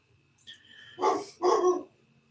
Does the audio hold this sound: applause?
no